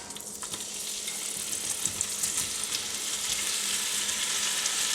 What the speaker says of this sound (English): a large pot which has heated up with a 1/4 cup of olive oil, and to this we are going to add in our sliced andouille sausage